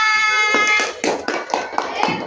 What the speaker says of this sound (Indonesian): Kalau beri aplaus kepada kelompok 2